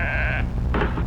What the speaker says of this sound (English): What's that? The sheep. Maybe he's calling something.